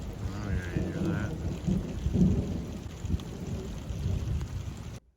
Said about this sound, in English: I don't know if you hear it, but I don't think it's done raining